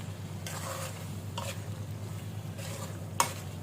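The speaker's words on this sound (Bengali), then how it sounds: "আলুটা একটু কষাই নিতে হবে এর মধ্যে।" Thick-cut potato pieces fry in a pan, a faint steady sizzle broken by a few brief stirring scrapes and a sharp utensil tap near the end.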